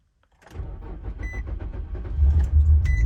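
A 2004 Infiniti G35X AWD engine cranks and catches, rising into a rough idle with a squealing, chirping belt noise over the motor.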